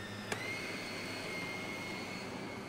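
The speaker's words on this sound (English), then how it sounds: "Whisk it together." Sweet potato batter with flour mixed by an electric whisk, a steady high whirring hum after a brief click at the start, running continuously with no speech.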